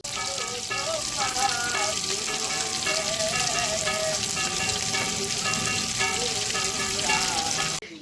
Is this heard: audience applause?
no